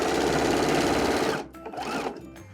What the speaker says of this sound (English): let's turn and sew up the piece of binding